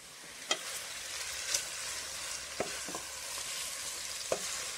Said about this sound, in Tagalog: Mukulo na yung pork. Haluin natin.